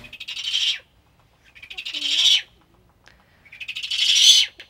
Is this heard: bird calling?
yes